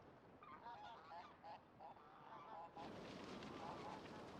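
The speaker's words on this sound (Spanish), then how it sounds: "Cada año miles de aves migratorias colman el cielo de Bogotá." Migratory waterbirds such as geese calling over Bogotá, a run of faint honking calls that breaks off and gives way to a wash of broadband outdoor noise.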